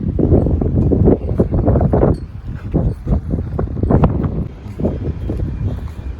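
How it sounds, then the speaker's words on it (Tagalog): Strong wind buffets the microphone outdoors at the port of Ibiza, Spain, a steady loud rumble with gusty swells and faint background noise. "Mahangin."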